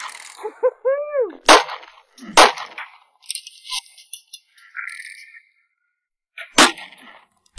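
Glock 19 pistol firing 9mm rounds at a stainless steel Tesla Cybertruck: three sharp, loud shots spaced a second or so apart, with echoing tails and a rattle between them.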